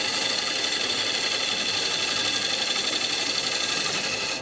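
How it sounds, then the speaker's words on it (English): A wood lathe spins a punky pine blank into a rustic fruit bowl while a gouge cuts, producing a loud, continuous motorized whir with a rough, buzzing texture that stays even throughout. "I'll just do the cleanest cuts I can with the gouge"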